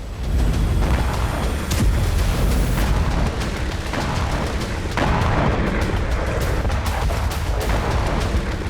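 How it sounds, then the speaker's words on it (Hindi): A powerful blast at a Russian explosives and ammunition factory after a Ukrainian drone strike: sustained heavy rumbling roar with repeated sharp booming cracks, loud and continuous throughout, no voices. "यूक्रेनी ड्रोन से हुआ जोरदार धमाका"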